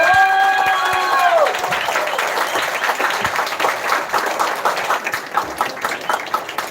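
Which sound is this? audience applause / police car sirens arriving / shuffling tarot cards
audience applause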